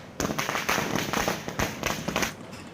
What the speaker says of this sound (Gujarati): વકીલોએ કોર્ટ સંકુલમાં ફટાકડા ફોડી અને સૂત્રોચ્ચાર કરીને ભવ્ય ઉજવણી કરી હતી